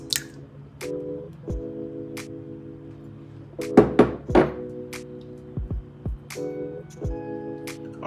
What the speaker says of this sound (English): Into a mixing bowl, we are going to combine our four eggs.